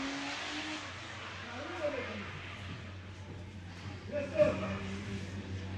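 Drift cars, a 660-horsepower BMW E46 with a B28 turbo and a 1,000-horsepower Nissan S15 with an LS2, rev and drone at a distance during Sunday twin-battle practice, with a commentator talking over the engines.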